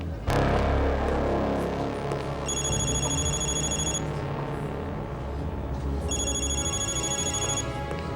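A phone rings in two bursts of electronic trilling tones, with a pause between them, over a steady indoor background hum during a Turkish drama scene.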